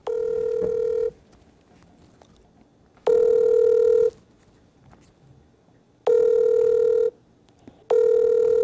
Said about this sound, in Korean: 전화 받으시겠죠?